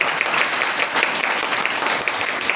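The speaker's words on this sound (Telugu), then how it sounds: "గట్టిగా చప్పట్లు కూడా" A church congregation claps loudly and steadily during a pastor's sermon, a dense wash of many hands filling the room without pause.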